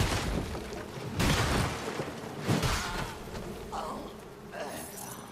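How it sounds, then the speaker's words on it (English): Insect-like buzzing of bees in the dark fantasy action game Mortal Shell 2, a dense droning hum that swells in a few loud bursts over about five seconds with game noise underneath. "Ow, the bees."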